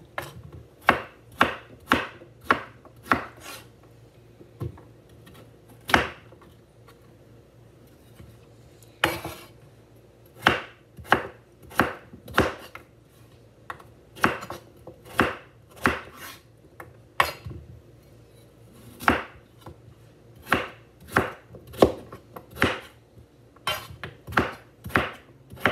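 A sharp knife chops potatoes on a cutting board, dozens of crisp close knocks in irregular bursts with brief pauses between, no one speaking.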